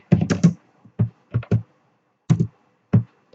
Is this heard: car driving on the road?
no